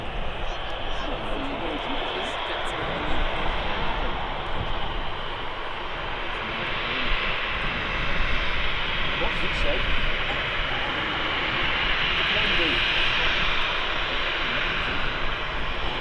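A Boeing 737 taxiing at Manchester Airport, heard as a loud, steady broadband jet engine roar that holds without a break for the whole stretch.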